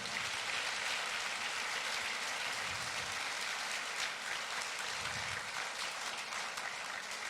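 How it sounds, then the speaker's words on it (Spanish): A church congregation applauds the Lord with sustained, dense clapping that stays loud and steady all the way through, with faint low voices now and then underneath. "Denle un aplauso al Señor."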